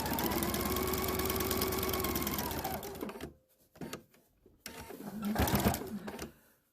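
A sewing machine stitches a fabric seam for a four-at-a-time flying geese quilt block, running steadily and loud for about three seconds, then stopping and restarting in short bursts.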